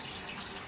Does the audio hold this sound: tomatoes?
no